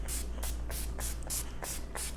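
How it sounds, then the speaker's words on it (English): Quick repeated pumps of All Nighter makeup setting spray, seven or so even, close hissing bursts in a steady rhythm with no talk. "So I'm spraying with all-nighter."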